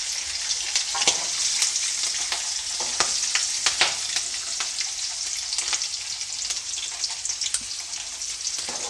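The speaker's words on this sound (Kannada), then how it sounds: "ಗೋಡಂಬಿನ ಒಂದು ಸ್ವಲ್ಪ ಕೆಂಪು ಹತ್ತಂಗೆ ಫ್ರೈ ಮಾಡ್ಕೊಳ್ಳಿ" Green chillies and cashews frying in hot oil in a pan, a continuous bright sizzle with scattered crackles and pops, close and steady throughout with no talk.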